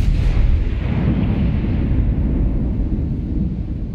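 Main guns of the battleship Iowa firing in a naval video game, one heavy booming blast that rumbles deep and loud, then fades into a long low roll with no talking.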